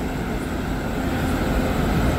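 WAG-9 electric locomotive standing at Charlapalli station, giving off a steady, unbroken electrical hum and blower drone, close by and fairly loud, with no voices over it.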